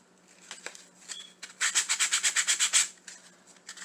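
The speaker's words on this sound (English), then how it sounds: "sand it down. Doesn't have to be a lot of sanding, just a little." A Dollar Tree craft piece is sanded by hand with short rasping strokes: a few scattered rubs, then a quick run of about ten rhythmic back-and-forth passes, fairly close and quiet.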